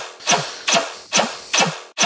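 A synth bass patch without its N-Color layer, playing four evenly spaced bright plucked notes, each a sharp attack with a short tail and a low thump, close and loud with no voices.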